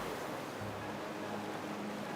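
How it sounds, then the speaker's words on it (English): Surf at Samcheok, Korea, waves breaking against an offshore island, heard as a steady roaring wash of water with low rumble, unbroken and moderately distant, no talking. "And the sound of the waves crashing against the island over there,"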